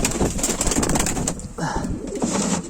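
Tumbler pigeon sounds amid a busy loft, with soft cooing and fluttering against constant background chatter of birds.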